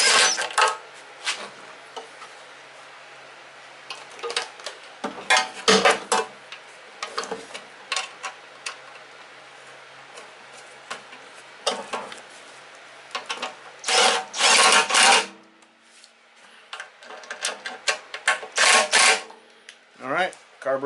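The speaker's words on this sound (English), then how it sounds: "I'll tighten these bolts back up." Bolts on a Briggs and Stratton mower carburetor are tightened with a hand tool, giving scattered close clicks and ratcheting bursts in short irregular runs over a quiet room.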